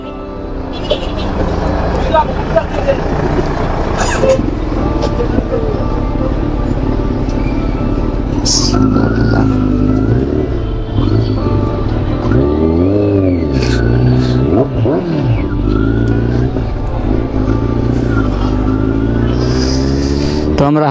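Kawasaki Z900 motorcycle cruising on a highway, a steady loud engine drone with shifting pitch as it accelerates and holds speed, heavy wind rush throughout, and a rider's voice talking over it.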